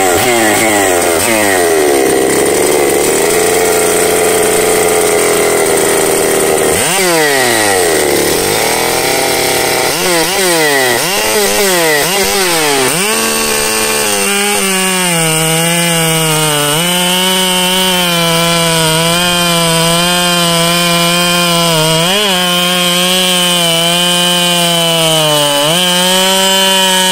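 A ported Husqvarna 395 EC chainsaw rips loudly through wood, its high whine dipping and recovering as the chain bites, then holding a steady heavy cutting drone for long stretches without any talk.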